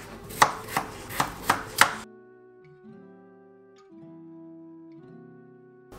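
A knife chops potatoes into smaller pieces for boiling: five sharp, evenly spaced thuds on a cutting board, then the chopping stops and a quiet, steady tonal hum is left.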